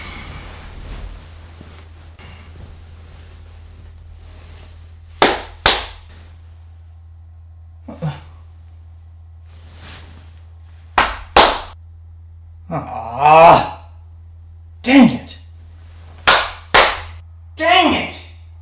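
Sharp hand claps aimed at a Clap-on light switch, set off in separated bursts of one to three loud, close smacks over steady room hum, with a short frustrated exclamation between them.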